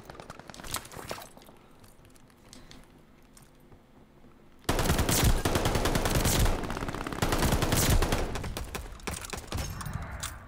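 Rapid automatic gunfire in Call of Duty Vanguard multiplayer with an MP40 setup, sporadic shots at first, then a loud, sustained stream of bursts close up, no talk.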